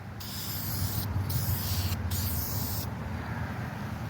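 Duplicolor clear coat is sprayed from an aerosol can onto a car headlight in three close hissing bursts, the last one longest, over a low background rumble.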